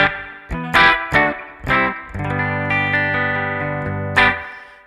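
Clean electric guitar played through an amp with no delay, a few plucked notes and chords ringing out, then a sustained strummed chord and a final strum, close and alone.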